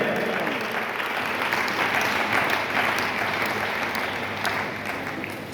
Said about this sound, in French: Can you put your hands together for him?